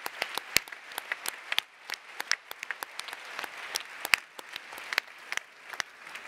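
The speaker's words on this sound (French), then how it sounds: "Je vous demande de les applaudir à nouveau pour leurs propos." A conference audience gives a faint, steady round of applause for the morning's speakers, with individual claps standing out throughout.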